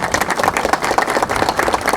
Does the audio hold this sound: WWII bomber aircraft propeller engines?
no